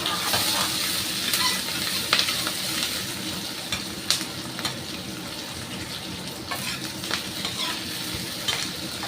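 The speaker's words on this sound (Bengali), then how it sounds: "ভালো করে একটু ভাজবো।" A ridge gourd dish frying in a pan, a steady sizzle with scraping stir strokes and occasional sharp clinks, close and continuous.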